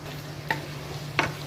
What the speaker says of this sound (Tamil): இது எல்லாமே இப்போ ஒன்றா கலரிட்டு இருக்கோம்